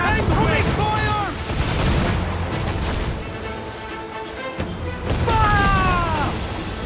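Ship cannons boom in a naval battle in Assassin's Creed 4: Black Flag, loud broadband blasts over ocean and wind noise, with shouted commands from a crew between the volleys.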